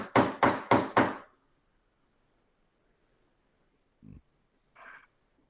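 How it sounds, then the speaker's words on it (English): Four firm, evenly spaced knocks on a door, loud and close, followed by silence and a couple of faint, brief sounds later on. "Just as you finish saying that, you hear a knock on the door."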